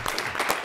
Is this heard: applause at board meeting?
yes